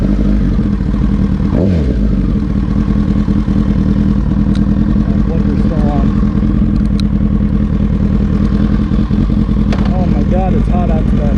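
A Kawasaki Ninja ZX-10R liter-bike engine fires up and settles into a loud, close, steady running rumble, with occasional light revs above the constant drone.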